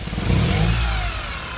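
A Toyota engine cranks over with a steady churning rumble, loud and close, with no talk over it.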